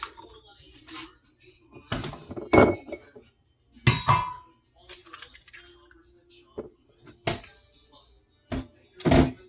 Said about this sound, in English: now I'm going to put in 2 eggs